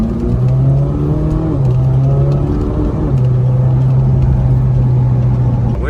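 A Ferrari 458 Spider's engine revs loud and close from inside the car, its steady drone rising and falling through several shifting pitches with no talk over it.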